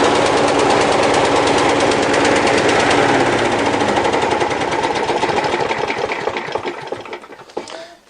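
Poorly maintained lawn mower engine running rough with the choke stuck on and a dodgy spark plug, a loud, close, rapid stuttering putter that holds steady and then sputters, fades and dies out near the end, with no voices.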